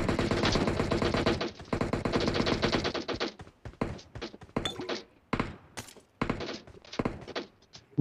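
Video game gunfire with a red dot sight, a dense rapid automatic burst at first, then scattered single shots and short bursts with sharp thumps, loud and close with no talking.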